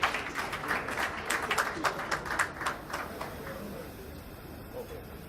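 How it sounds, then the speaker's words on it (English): An audience at a send-off dinner applauds as a speaker comes up to give a toast, a burst of scattered clapping that swells briefly and then fades to quieter background noise. "A round of applause."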